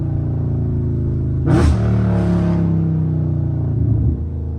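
Loud Dodge Scat Pack V8 held in a low gear, a steady deep rumble swelling into a hard rev surge and sustained high-rpm roar, then easing back near the end.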